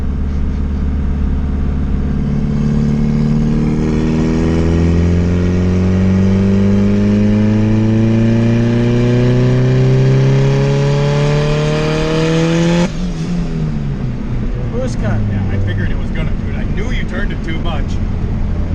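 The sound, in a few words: single cam car accelerating hard in third gear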